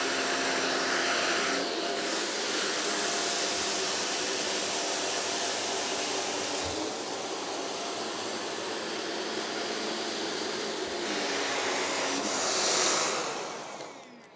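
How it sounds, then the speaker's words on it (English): A Shark NV602UKT upright vacuum cleaner runs on minimum suction over a deep pile carpet, picking up rice, cornflakes and crackers with a loud, continuous whooshing motor roar that shifts slightly in pitch as it is pushed back and forth. "Now I'm using the cleaner on a deep pile carpet"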